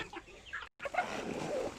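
Chickens cluck around a farmyard while being fed corn and wheat, with several overlapping clucks and calls at close range and a brief gap of silence partway through.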